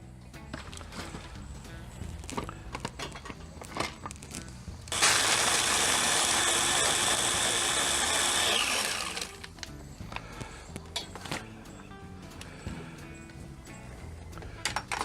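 A kitchen blender buzzes up a melon cocktail, running loud and steady for about four seconds in the middle, with handling clatter and knocks before and after.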